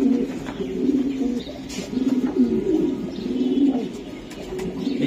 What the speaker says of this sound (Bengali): এই জেনসন ব্লাডের কবুতর।